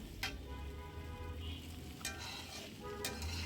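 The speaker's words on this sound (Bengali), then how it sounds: "অল্প অল্প ভাত দিয়ে নেড়ে চেড়ে" Rice is added bit by bit and stirred into a frying spice mix, a steady low sizzle broken by three sharp scraping spatula strokes against the pan.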